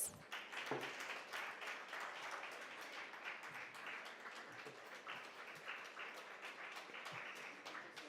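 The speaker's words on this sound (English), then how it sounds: "Please give them a huge round of applause." An audience at a women chartered accountants' conference applauds to honour a speaker, steady clapping of moderate density heard faint and somewhat distant, carrying on evenly for about eight seconds.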